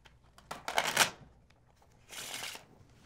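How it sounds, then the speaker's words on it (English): A deck of playing cards is riffle-shuffled up close, with two quick fluttering bursts of flicking cards about a second apart and no talking over them. "Shuffle the cards."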